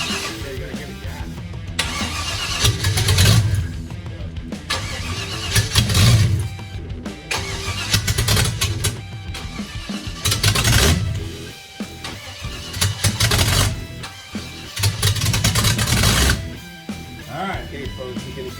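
A 1956 Chevy truck engine is cranked repeatedly in bursts, the starter churning in several long attempts separated by short pauses, loud and close, with people talking between tries.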